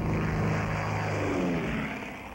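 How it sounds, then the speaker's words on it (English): Propeller aircraft at a holiday Independence Day air show, a loud steady engine drone with a slowly shifting pitch as a plane passes close, fading slightly toward the end. "It's a holiday air show."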